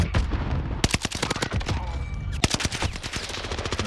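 Rapid video-game gunfire crackles in dense bursts of sharp, loud shots throughout, with a continuous rattle of automatic fire and no clear talk.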